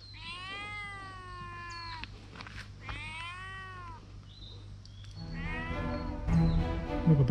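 A cat on a mountain hiking trail gives several drawn-out, wavering meows, some rising into a yowl, heard fairly close against faint outdoor ambience, with a louder rustling and clatter near the end.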